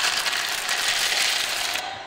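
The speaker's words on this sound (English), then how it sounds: "It sounds like cracking. And it sounds like crunching." Baby birds in a nest make a dense, close cracking and crunching, like a rapid ratchety crackle. It goes on for about two seconds and then cuts off abruptly.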